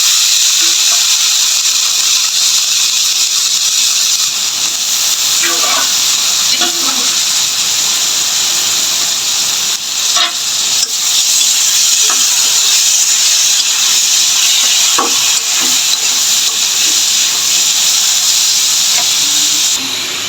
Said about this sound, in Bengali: এখন আমি যে বেগুনটা তুলে দিয়ে দিচ্ছি